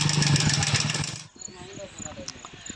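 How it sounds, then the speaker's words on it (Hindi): A faulty motorcycle engine with a noise problem and white smoke runs loud and rough with a steady droning hum for about a second, then cuts out, followed by someone talking over faint background sounds. "तो इंजन की साउंड देखिए कितनी ज़्यादा यानी कि ख़राब साउंड है"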